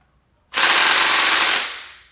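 An impact wrench on the cylinder head bolts of a 396 big block engine lets out a single loud, rattling burst lasting about a second. It starts abruptly, then tapers off, with no voices.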